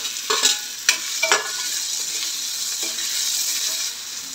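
Chopped tomatoes drop into frying onions with red chili in a pan and are stirred, giving a few sharp scraping clatters over a steady close sizzle, with no voices.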